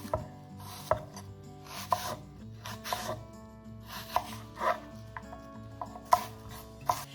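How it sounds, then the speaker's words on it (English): A knife cores and dices apples on a cutting board, with about a dozen crisp, unevenly spaced chops close by and no talking. "we are going to core and dice up these apples"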